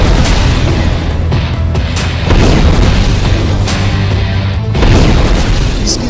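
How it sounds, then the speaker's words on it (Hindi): Loud, continuous rumbling blast noise from an explosion in Beirut, Lebanon, in news footage, with dense broadband roar and a few sharper booms and bursts layered through, no speech. "इसकी सबसे बड़ी वजह यह ब्लास्ट है, यह धमाका, यह अफरा तफरी।"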